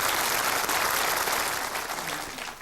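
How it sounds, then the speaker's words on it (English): Studio audience applause for a correct answer on a 1960s-themed TV quiz show, a sustained dense round of clapping that holds steady and eases slightly toward the end. "Round of applause for"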